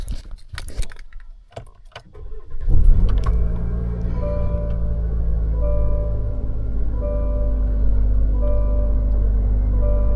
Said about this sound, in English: let's start this truck up and see